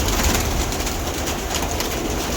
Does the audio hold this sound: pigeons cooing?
yes